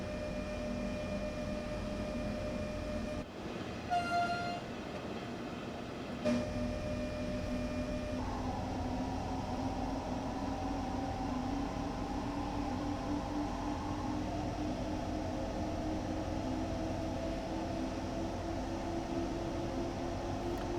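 Electric train running on the Main Spessart Bahn in Train Sim World 2, giving a low steady hum with whining tones that rise and shift in pitch as power changes, plus a brief clatter early on.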